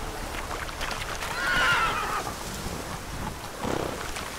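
A horse neighs loudly in The Witcher 3 while being ridden, a rising whinny in the middle with a second, shorter call near the end, set against steady ambient game noise.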